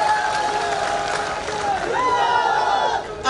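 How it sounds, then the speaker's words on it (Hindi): Large crowd at a political rally in Rajakhera, Dholpur, applauding and cheering loudly in a steady sustained roar, with a few raised voices and shouts rising out of the noise. "तो इसलिए जोरदार ताली सुनना है मुझे को जोर से।"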